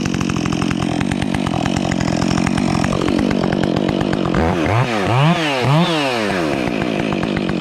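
Husqvarna chainsaw fitted with a brand new chain running loud and steady, then bogging into firewood with repeated rising-and-falling cutting strokes as the chain bites through the log.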